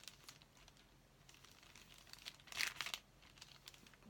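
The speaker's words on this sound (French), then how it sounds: "je passe le papier parce qu'il est pas mal pour faire le fond. Tout dépend comment on le froisse." Paper being crumpled by hand to make a card background, with soft crinkles and a louder burst of scrunching near the middle, close and quiet, no talking.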